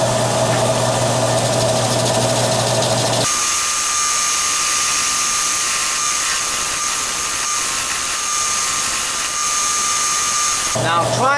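Ficus bowl spinning on a woodturning lathe, a steady motor whine with the gouge scraping hard against the wood, then a sudden shift to a brighter, hissing cutting sound that continues before the motor tone returns.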